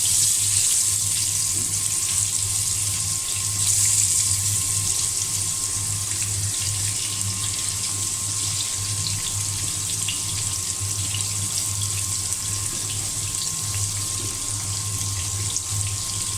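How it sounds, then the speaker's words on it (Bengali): Sliced pointed gourd (potol) fries in hot oil in a pan, giving a steady, loud, watery hiss that runs unbroken from start to end without talking. "তেল গরম হয়ে গিয়েছে, পটলটা আমি"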